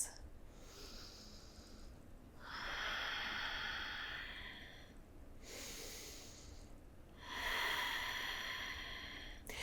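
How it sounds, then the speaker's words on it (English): Slow yoga breaths during a sun salutation flow, two long audible inhales and exhales through the nose, close and soft, alone without talk. "A few final breaths."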